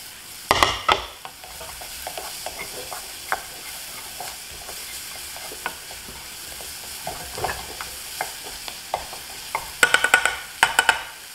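Garlic, onion and celery stir-fry in a pan over medium-low heat, with a steady soft sizzle and a few sharp clusters of utensil scrapes and clinks, the busiest near the end.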